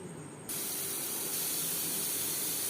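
A pressure cooker of boiling chickpeas and potatoes on a gas flame lets out a loud, continuous hissing whistle of steam that gets stronger after a half-second and holds steady.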